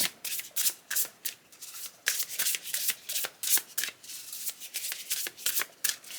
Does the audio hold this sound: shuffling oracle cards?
yes